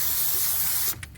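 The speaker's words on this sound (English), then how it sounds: "we do need to clean the flywheel and pressure plate with some good old brake cleaner." Brake cleaner sprays from a can onto a flywheel and pressure plate in one close, loud, steady hiss lasting just under a second. It stops abruptly, followed by a few faint clicks.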